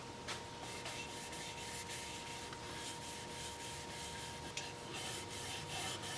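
Shellac-based sanding sealer being rubbed onto a thin turned cedar bowl, a soft steady continuous rubbing hiss, faint and close, with no talk.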